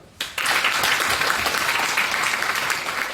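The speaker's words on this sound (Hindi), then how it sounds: "एक बार जिनका है उनके लिए तालियां बजाओ" Audience at a motivational talk in a trade center breaking into applause, starting abruptly and then continuing as loud, sustained clapping.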